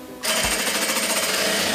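A sewing machine stitches around the folded waistband of baby pants, starting abruptly and running in a fast, even, loud mechanical rattle until the end.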